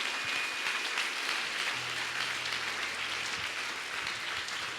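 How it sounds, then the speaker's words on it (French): A church congregation at a bilingual Sunday service claps loudly and continuously, a dense, even roar of applause filling the hall from start to finish. "Ho fisaorantsian'Andriamanitra dia hiteka farazay mafy be isika."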